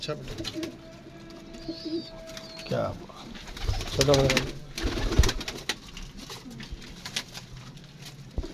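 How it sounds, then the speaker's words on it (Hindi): Pigeons coo in soft repeated low calls at close range, with wing flutters and rustling among them while someone speaks briefly in between. "ये माशाल्लाह आपको कबूतर दिखाए हैं"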